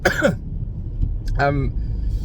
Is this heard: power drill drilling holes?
no